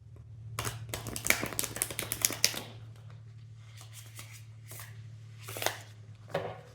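A tarot card deck is shuffled by hand up close, with quick bursts of riffling and flicking cards in several rapid runs separated by short pauses over a low steady hum.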